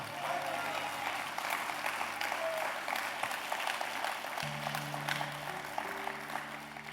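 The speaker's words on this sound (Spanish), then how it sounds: "Yo no sé por qué usted no está aplaudiendo." A church congregation claps steadily together for several seconds, a broad dense patter of many hands over faint background music.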